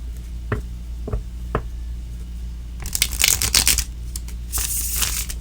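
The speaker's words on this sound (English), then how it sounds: "I'm going to do 2 more shuffles this way." A tarot deck being shuffled by hand: a few soft isolated taps, then two bursts of rapid crisp riffling card flutter, close and fairly quiet with no talk.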